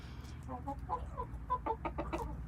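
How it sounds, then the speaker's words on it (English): A rooster clucks close by in a rapid, uneven series of short, throaty calls over a low steady outdoor hum. "it is intimidating when you got this chicken coming after you"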